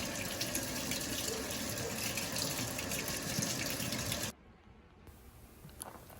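Water from a tap runs steadily over canned beans in a strainer, a loud continuous gush that stops abruptly after about four seconds, leaving a quiet room with a faint clink.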